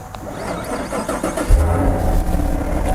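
A 2019 Chevrolet Camaro SS engine turns over and fires midway, then settles into a deep, loud rumble that holds steady. Heard up close with no talking.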